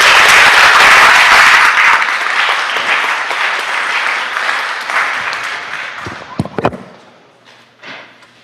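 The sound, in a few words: applause in the Senate chamber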